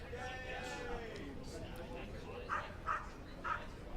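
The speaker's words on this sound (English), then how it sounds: "Hear the barks in the distance" Dogs bark several times in the distance among fans at a summer collegiate baseball game, three short faint barks spaced apart near the end over steady crowd murmur and a commentator talking.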